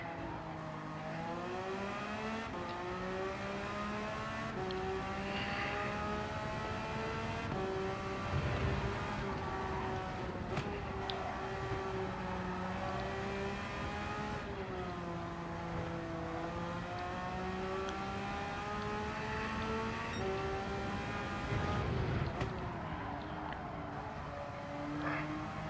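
A race car in the rain accelerates hard in first gear on track, its engine a continuous, loud, close droning whine that rises and dips in pitch through revs, with no other sounds standing out.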